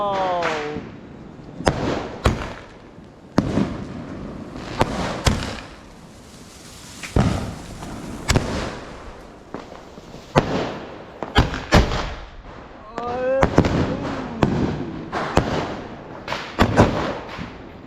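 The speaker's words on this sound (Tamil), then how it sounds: "இது வந்து பெரிய வானவெடி. இப்போ பாரு, இது நல்லா வெடிக்கும் பாரு." Diwali sky shot fireworks bursting overhead in a steady series of loud sharp bangs, some preceded by rising whistles, with crackling tails between blasts and faint voices talking at times.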